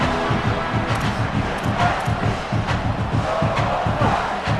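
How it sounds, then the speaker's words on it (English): Stadium crowd in a college football video game with Texas A&M roars continuously and loudly, a dense wall of cheering with rhythmic surging pulses throughout. "this crowd is turning it up a notch. Deafening noise."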